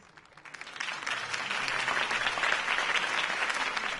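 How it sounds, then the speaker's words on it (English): A crowd's applause swells up after a political campaign speech in a video game, building quickly from quiet to a sustained, fairly even roar of clapping. "If only Mr. Wayne, my campaign's largest backer, could have heard that applause"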